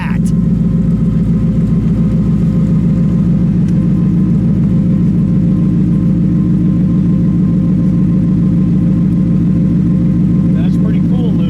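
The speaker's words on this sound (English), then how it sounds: "Let me let it idle for a second." Steady, loud low rumble of a 2025 Shelby Mustang GT350R's 5-liter V8 idling close by, a smooth continuous drone with no revs, with people talking over it.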